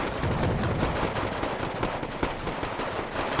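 Dense, continuous barrage of booming tank cannon and gunfire blasts in the video game Wargame: Red Dragon, loud and overlapping throughout with no speech.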